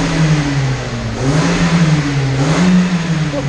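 A Honda i30 engine revs through its original, quiet stock exhaust, giving a steady, close, moderately loud mid-pitched drone that rises and falls slightly across the clip, with no talk.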